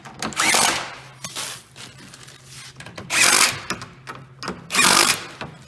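Power driver tightening fasteners into wooden raised bed boards, three loud whirring bursts with quieter handling clicks and scrapes in between, close up.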